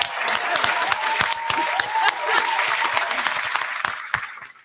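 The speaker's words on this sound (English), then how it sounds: "I'm clapping for all y'all because y'all my new." An audience gives a steady round of applause with dense crackling claps at moderate loudness, fading toward the end, with a voice faintly under it.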